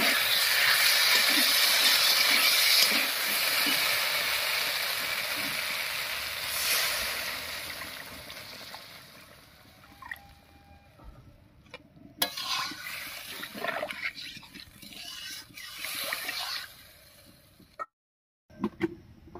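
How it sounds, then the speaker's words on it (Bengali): Water poured into a pan of sizzling, spice-fried potatoes for a fish curry, a loud, steady rushing hiss that slowly fades, then gives way to quieter clinks and stirring scrapes of a utensil against the pot. "এবারে ঝোলের জন্য জল দেব"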